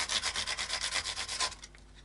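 Fret edges on a Squier Bullet Strat neck being sanded: rapid, rhythmic back-and-forth rubbing strokes, close and steady, then tapering off, with no talking.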